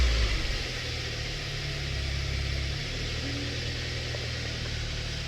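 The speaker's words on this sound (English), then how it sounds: "let's go start the car and see if it'll come on at all" Hyundai Sonata with a fault putting it into reduced power limp mode, its engine starting with a brief loud burst that settles into a steady idle drone, close by with no talking.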